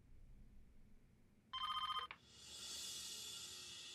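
A telephone rings indoors with a short electronic trill, then a brighter burst of ringing follows. The sound is faint overall and no one speaks.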